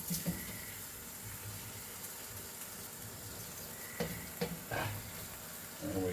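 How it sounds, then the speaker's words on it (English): Noodles are stirred and loosened in a strainer, giving a soft, continuous wet rustle with a few scraping knocks and clinks scattered through, close by and fairly quiet. "Stir it up and loosen it in the strainer."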